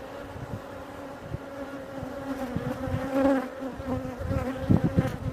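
Honey bees buzzing steadily around an open hive during an inspection after a colony split, a close, dense drone with soft handling knocks and no talking.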